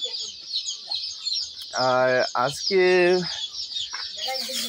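A crowd of day-old Sonali hybrid chicks cheeps continuously in a dense, high-pitched chorus of rapid peeps, close and lively, while a person speaks briefly over them.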